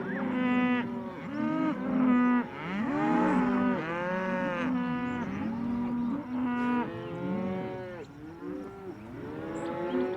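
An Angus cow at a ranch moos loudly and repeatedly, long drawn-out bellows close by with a few overlapping calls from other cattle, no talk over them.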